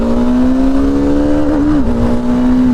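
A loud, steady engine drone holds close and constant from a vehicle with an already overheated engine, wavering briefly midway rather than climbing in pitch.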